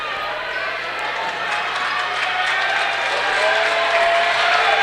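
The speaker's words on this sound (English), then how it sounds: "Jefferson crowd getting hype with this defensive effort." Basketball crowd at a Jefferson vs Spring Mills game, cheering during a defensive possession: a dense, steady roar of voices and claps that swells slightly across the moment, with faint talk mixed in.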